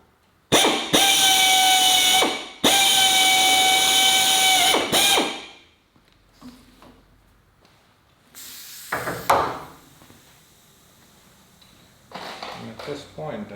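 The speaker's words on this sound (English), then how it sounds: "let's drill" A power drill whines steadily in two long bursts, drilling a center-punched hole on a Series 3 Land Rover Santana, loud and close, followed by quieter handling noises and a shorter whirring burst.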